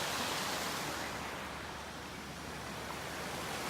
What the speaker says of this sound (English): That little creek is clear up over top of this road